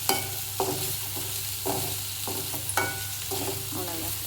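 Whole eggs are stirred into a frying curry, with a spoon scraping and knocking against the pan in irregular strokes over a steady, low sizzle that carries on throughout.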